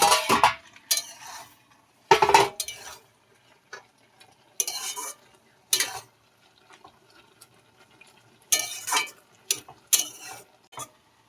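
Moringa leaves being stirred in a covered pot, with a series of irregular scraping and rattling bursts separated by short quiet gaps, heard up close and alone.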